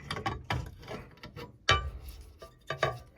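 A nut on a car is loosened with a ratcheting wrench, giving quiet, close, irregular clicks and scrapes in short bursts with brief pauses between strokes.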